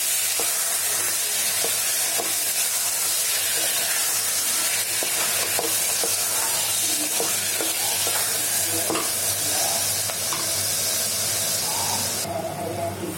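Food is stirred in a pan after sugar goes in, giving a constant frying sizzle with scattered light scraping clicks from the utensil throughout.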